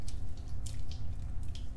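Face cleanser being worked into a foam with water by hand, with soft wet squishes and faint drips in short bursts over a low background hum.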